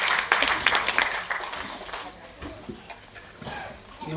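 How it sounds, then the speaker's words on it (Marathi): An audience applauds at the Sakhi Gaurav award ceremony in Ravindra Natya Mandir, with dense clapping strongest at first, then thinning and fading as voices carry on underneath. "त्यामुळे आपल्या परिवार प्रमुखासाठी सर्वात जास्त जोरदार टाळ्या"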